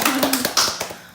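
A few people clap briefly, sharp uneven claps close by, fading out after about a second.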